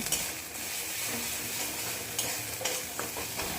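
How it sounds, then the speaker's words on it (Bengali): Chili paste sizzles and fries in hot oil while being stirred, a steady close crackle with occasional scraping strokes of the spoon throughout. "লঙ্কা বাটাটা এবার তেলের মধ্যে দিয়ে কিছুক্ষণ ধরে কষিয়ে নিচ্ছি।"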